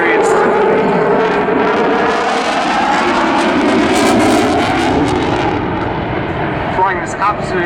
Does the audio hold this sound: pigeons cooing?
no